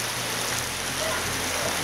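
Rain falls outside a research station in the Peruvian Amazon jungle at Tambopata, a steady soft hiss of drops on surfaces that holds evenly throughout, fairly quiet, with no talking.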